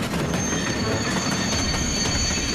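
A cartoon train rolls steadily with squealing wheels, a loud, continuous metallic screech riding over the rumble of the cars for the whole stretch.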